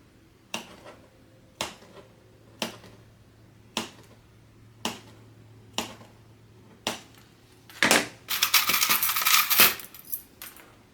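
Sharp scissors make about eight spaced snips as they cut notches into fabric piping at a corner. A brief rustle of fabric follows, with no talking.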